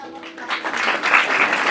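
An audience claps during a sermon in a short burst of dense, fairly loud applause that swells and continues without a break.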